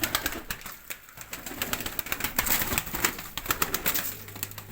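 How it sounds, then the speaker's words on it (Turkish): Pet pigeons in their loft coo softly in repeated low, throaty phrases, with light rustling, fluttering and scattered clicks of movement around them, close and moderately quiet with no talk. "kuşlarımızı hepsinin neşesi, keyfi yerinde"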